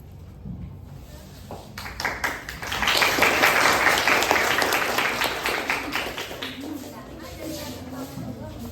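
A classroom audience of students claps for group 1 after their citizenship project presentation on human rights; scattered claps swell into a steady, fairly loud round of applause in the middle before thinning out again.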